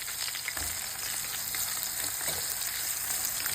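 Onion, curry leaves and coriander powder frying in a pan give a steady, close, dense sizzle with small crackles and pops throughout, and no voices.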